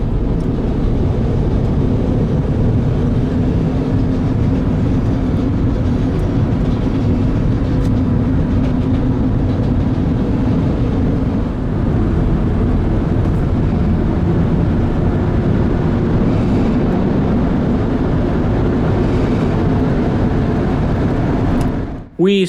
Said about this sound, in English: we got to kinda pace this CTA train coming into the city